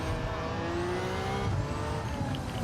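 A fully upgraded R32 GTR Nismo engine in Gran Turismo 7 drones steadily at high revs, with the pitch rising slightly, loud and close, and no voices.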